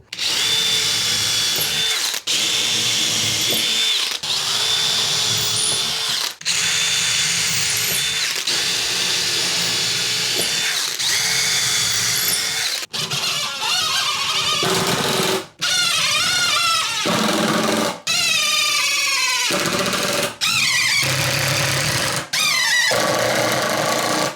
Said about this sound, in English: I'm going to get the top screwed on